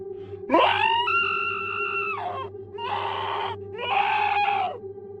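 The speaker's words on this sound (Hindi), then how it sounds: "भीतर से एक असहनीय चीख गूंजी।" An unbearable scream in a Hindi horror story, heard as three long, loud, sustained wailing cries over a steady low hum, with no talking.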